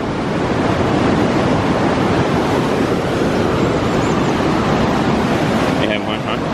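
Loud, constant roar of rushing water filling the whole clip, with a faint voice briefly audible near the end.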